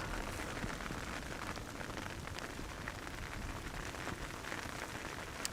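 Rain showers fall at Amsterdam Schiphol airport beside the Polderbaan runway, a steady, even hiss of rain on surfaces that holds at the same level throughout, with no voices.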